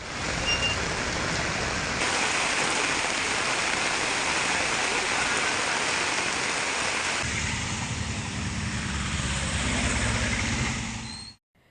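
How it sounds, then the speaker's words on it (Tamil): Heavy night rain over Melur in Madurai district, a dense continuous roaring downpour that shifts tone partway through, broad and loud, then cuts off abruptly at the end. "மதுரை மாவட்டம் மேலூர் மற்றும் சுற்றுவட்டார பகுதிகளில் இரவில் 1 மணி நேரத்திற்கும் மேலாக கனமழை வெளுத்து வாங்கியது"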